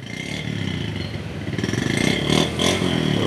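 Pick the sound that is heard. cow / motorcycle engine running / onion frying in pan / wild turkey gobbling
motorcycle engine running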